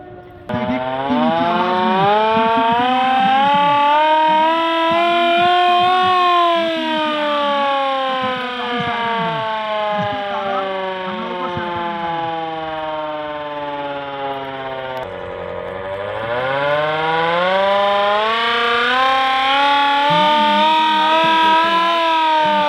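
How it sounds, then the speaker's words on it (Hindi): A loud civil defense air raid siren wails continuously during a mock drill in Moradabad, India, its pitch rising and falling in long, slow sweeps, then climbing again. "इस समय अभी भी बम्बार्डिंग चल रही है और इस तरह का सायरन"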